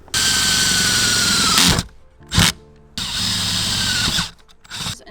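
Power drill cutting a hole for cables through a van's metal body, a loud close whine running in two long bursts of about one and a half seconds each, with brief pauses and short blips between.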